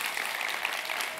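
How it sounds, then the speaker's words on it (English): A church congregation at Discover Life Church in Sikeston applauds for Justin and Meredith, a brief, steady wash of many hands clapping that fills the room evenly from start to finish. "They deserve a round of applause."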